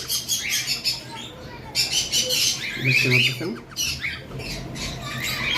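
Cockatiels at a bird farm let out repeated harsh squawks and chirps, several birds calling near and far in overlapping bursts, with a person's voice talking briefly among the calls.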